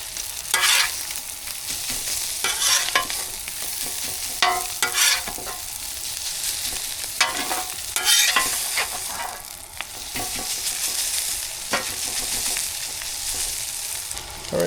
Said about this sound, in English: We're going to mix that into the onions.